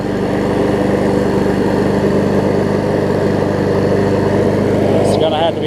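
A Craftsman self-propelled push lawn mower with a Honda engine runs close by, a loud, even engine drone that holds steady throughout and shifts slightly at the very end.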